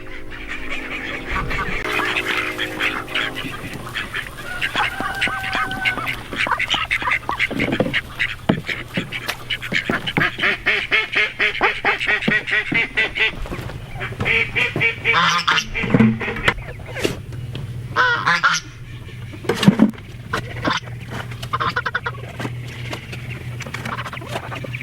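Ducks quack in a chicken and duck run with deep litter flooring, a steady flock chorus of overlapping calls close by, with some goose-like honks and soft pattering throughout.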